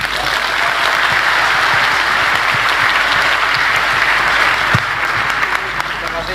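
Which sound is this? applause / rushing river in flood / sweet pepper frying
applause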